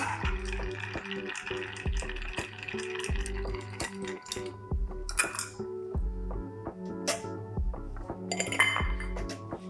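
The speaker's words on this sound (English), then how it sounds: "I'm gonna fill the mixing glass with ice. And we're gonna stir it briefly." A bar spoon stirs ice in a mixing glass for a clarified Mai Tai, with rapid, rhythmic clinks and rattles of ice against glass, close and bright, plus a few sharper knocks.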